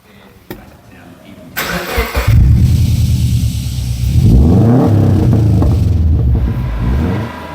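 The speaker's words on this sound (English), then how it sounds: "It takes very little to get an excellent sound out of these EJ flat 4 boxer engines." A Subaru EJ20 flat-four boxer engine with an aftermarket muffler in a Subaru Forester Cross Sports cranks and starts up close and loud, then settles into a deep, rumbling idle and gives a short rev.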